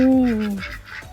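Ducks or geese at their pen give a loud, close, drawn-out nasal honk that falls in pitch, followed by softer rough calls.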